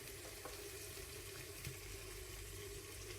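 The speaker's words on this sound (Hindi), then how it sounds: "हमारा अदरक लहसुन का पेस्ट अच्छी तरह भुन गया है।" Ginger garlic paste frying in a pan, a steady, soft sizzle with faint crackles running throughout, close by and with no voices.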